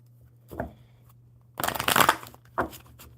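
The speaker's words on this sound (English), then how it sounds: "I'm going to shuffle the oracle" Oracle cards are shuffled in short bursts: a quick flick, then a longer riffling rush, and another brief flutter, close by and crisp.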